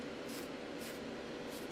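An aerosol can hisses in short bursts, spray paint going onto a 1/24 Tamiya Nissan 390 GT1 model car body, a soft even hiss that pulses about three times, fairly faint and close.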